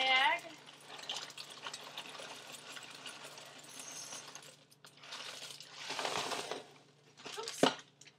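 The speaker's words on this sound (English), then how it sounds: "you're gonna open up the corn chex and pour it into the Ziploc bag" Dry Corn Chex cereal rattles and patters into a crinkling plastic Ziploc bag in several bursts, with a voice speaking briefly at the start.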